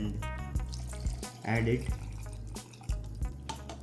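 A measured cup of water is poured into a blender for paneer butter masala gravy puree, giving a short splashing gush in the middle while a person talks over steady kitchen background noise.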